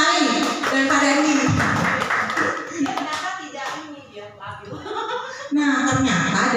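Classroom group applauding two participants during a teachers' training session, bursts of close hand clapping mixed with chuckles, laughter and voices talking over it.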